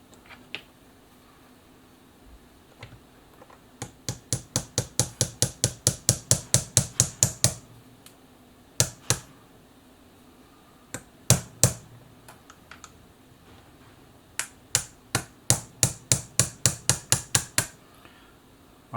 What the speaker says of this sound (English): when hammering this part in to not hammer down on the pin and then also hammer on these gears here